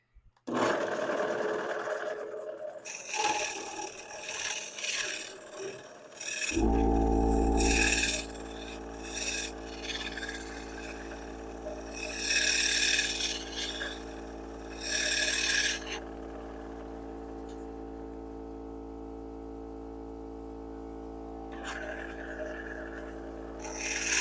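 A negative rake scraper cuts wood on a lathe, giving a loud, steady rasping scrape over the constant hum and whine of the spinning lathe, with the scraping easing off in the second half while the motor drone continues.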